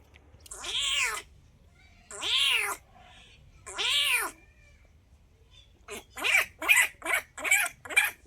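A man imitates animal sounds with his mouth: three drawn-out, cat-like meows spaced apart, then a quick series of five or six short yelping, bark-like calls, loud and close against a quiet background.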